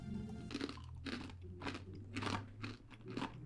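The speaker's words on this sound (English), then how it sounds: "Whoa, it's so crispy and crumbly." Someone bites into and chews a hard bacon parmesan crisp, giving a run of loud, close crunches in a steady rhythm with no talking.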